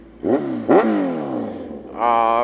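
A 2014 Kawasaki Z1000 naked motorcycle with an Austin Racing full exhaust revs hard twice, each sharp blip dropping away, then settles into a steady, loud, raspy idle up close.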